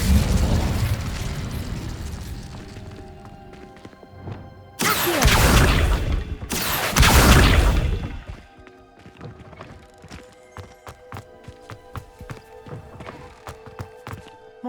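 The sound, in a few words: Incendio fire spell burning cobwebs in Hogwarts Legacy video game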